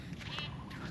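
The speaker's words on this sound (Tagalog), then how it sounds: "Pero maraming kambing." Goats bleating on a rural Filipino homestead near a vegetable garden, a short wavering bleat rising over a steady outdoor background, moderately close and alone without talk.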